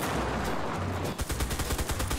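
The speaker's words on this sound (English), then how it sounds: "Remember, you got your machine gun with spacebar" A mounted machine gun in the World War II shooter Enlisted rattles out loud sustained bursts with distinct rhythmic shots, roaring close and continuous over battlefield noise.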